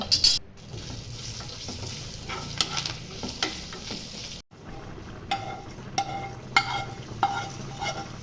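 A hot tadka of curry leaves, asafoetida, red chili powder and tempering masala sizzles and is stirred, then poured into a wok of sambar, where the frying sputter continues with scraping stirs.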